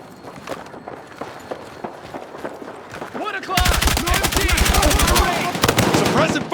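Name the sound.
machine gun fire in the video game Battlefield 6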